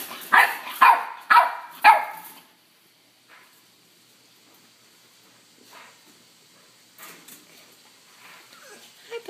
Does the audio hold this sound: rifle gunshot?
no